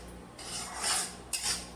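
A spoon stirs a sticky laddu mixture in a pan, heard as a few close, soft metallic scrapes and rubs against the pan with no talking.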